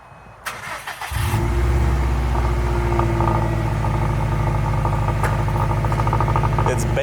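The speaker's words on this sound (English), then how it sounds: "It'll probably be a cold start." A Subaru STI cold-starts with a brief cranking whine, then catches into a loud, bassy exhaust rumble that idles high and steady nearby while people talk over it.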